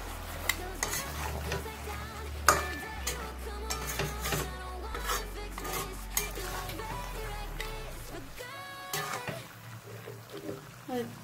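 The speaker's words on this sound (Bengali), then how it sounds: "নাড়াচাড়া করে দেবো।" Desi chicken curry being stirred in a pot after sugar is added, with steady sizzling and frying under continuous scraping and stirring, fairly faint and close, with occasional sharper clinks.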